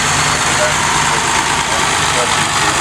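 A 1950 Ford tractor engine idling at an outdoor summer antique tractor show, a loud, steady low rumble running continuously without change.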